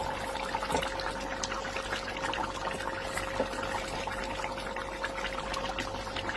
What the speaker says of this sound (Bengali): এবারে মাছগুলো একটা করে দিয়ে দেবো।